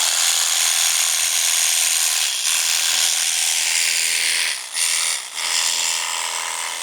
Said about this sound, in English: That's my mini 12-volt brushless reciprocating saw.